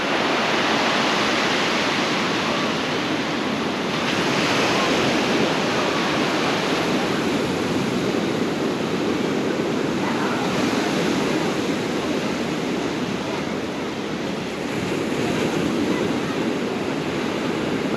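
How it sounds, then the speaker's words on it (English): Atlantic Ocean waves washing onto a Maine beach at Old Orchard Beach, a continuous broad surf wash with gentle swells in loudness and some wind, no one talking. "This is the Atlantic Ocean. A little bit of waves"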